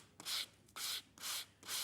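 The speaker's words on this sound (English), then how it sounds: "So I'm just sanding gently." Gentle hand sanding of cardstock in four even rubbing strokes, soft and close with brief pauses between each pass.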